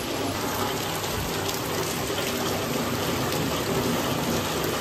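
Heavy monsoon-style rain pours steadily in a downpour that has gone on for over an hour, a dense, even roar of falling water with no voices.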